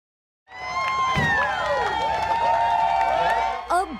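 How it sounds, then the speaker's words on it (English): A lively crowd at a church prom cheers and whoops for red carpet arrivals, with a steady roar of overlapping voices and scattered clapping that starts abruptly and holds loud throughout. "Big cheer for the red carpet arrivals."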